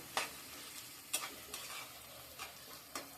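Sliced onions fry in a pan with a soft, faint sizzle, broken by a few sharp stirring clicks spaced about a second apart, and no one speaks.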